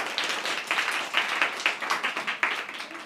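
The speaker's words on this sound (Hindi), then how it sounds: "इन सब के लिए तालियां बजा दीजिए" Short burst of scattered clapping from students in a government school classroom, a few hands slapping irregularly at moderate distance for about three seconds.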